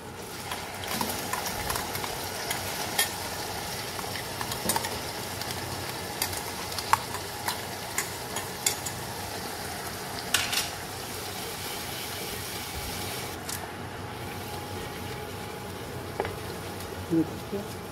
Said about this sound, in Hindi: प्याज भून रहा है हल्का हल्का पिंक से आपको नजर आ रहा होगा